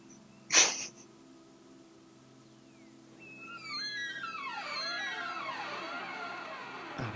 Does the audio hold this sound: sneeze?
yes